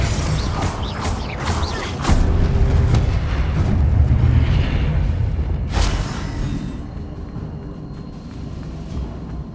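A Confringo blasting spell explodes in the Hogwarts Legacy game: a loud, rumbling boom with crackling debris and mechanical creaks, swelling for several seconds before easing into a lower lingering roar, no voices.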